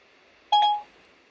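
A mobile phone gives a single short electronic beep tone, clear and close, set against a quiet room.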